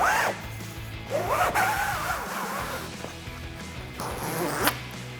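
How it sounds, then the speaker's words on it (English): A zipper on a Jeep Gladiator JT WildTop soft truck cap is pulled open in several quick rasping strokes, close and moderately loud, with short pauses between pulls. "So you're gonna open up this zipper."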